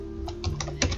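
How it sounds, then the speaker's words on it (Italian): Typing on a computer keyboard into a search box, a short run of about half a dozen light key taps close by over a low steady hum. "Dopodiché vado a scrivere nella ricerca Sparkle"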